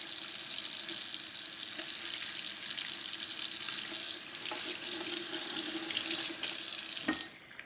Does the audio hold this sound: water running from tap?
yes